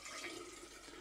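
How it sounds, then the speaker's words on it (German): Cool water poured into a vessel while making kombucha, a steady soft splashing fill with no talk. "Wasser hineinschütten."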